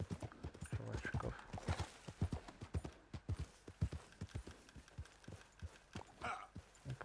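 Horse hooves clip-clopping in Red Dead Redemption 2, a steady run of sharp, close hoofbeats across the whole stretch, with a voice briefly speaking over them.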